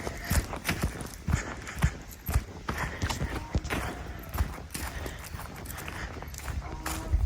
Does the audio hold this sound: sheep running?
yes